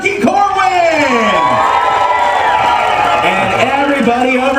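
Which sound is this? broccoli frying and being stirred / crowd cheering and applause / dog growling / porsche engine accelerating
crowd cheering and applause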